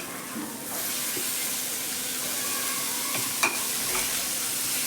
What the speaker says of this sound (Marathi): आता मी त्याच्यात टमॅटो घालते बघा